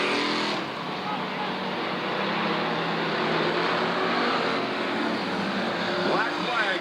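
Race cars at Southern Oregon Speedway, a continuous loud engine roar from several cars circling the track, staying dense and steady with a pass rising near the end, under an announcer's voice.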